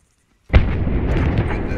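Controlled demolition charge set off during a military special forces training exercise: a sudden loud blast after brief silence, followed by a sustained rumbling roar.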